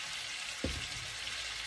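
Shrimp hitting a hot pan for a sauté, a sudden soft sizzle that starts partway through and settles into a steady, quiet frying hiss.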